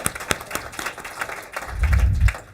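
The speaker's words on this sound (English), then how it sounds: "that's deserving of an applause" Applause breaks out at a Board of Education meeting for a 120-pound state wrestling champion, with scattered claps building into a fuller round of clapping in the room, and a low thumping rumble near the end.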